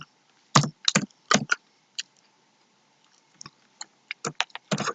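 Typing code on a computer keyboard, quick irregular bursts of close, crisp key clicks separated by short pauses, no talk.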